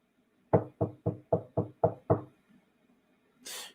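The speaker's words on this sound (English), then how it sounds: "You're getting a knock on your front door." Knocking on a front door: seven firm, evenly spaced raps in quick succession, close and clear against silence, followed by a brief soft hiss.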